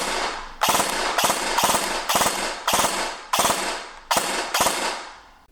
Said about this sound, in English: I'll have a 3-round burst on full auto